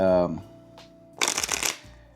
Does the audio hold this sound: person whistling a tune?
no